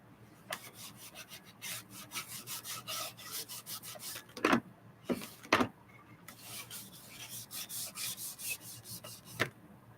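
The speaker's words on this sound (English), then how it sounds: "You gotta wipe it off. You gotta get all the dust off of this" Repeated rubbing and scraping strokes as sawdust is wiped off a wooden surface, close by, with a few sharper, louder swipes in the middle and no talking.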